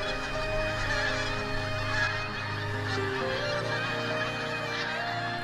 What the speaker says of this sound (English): Pink-footed geese.